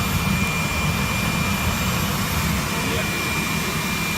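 Shop vac blowing air into a homemade furnace, a loud, steady roaring whoosh that fills the whole stretch without a break, with people talking faintly underneath.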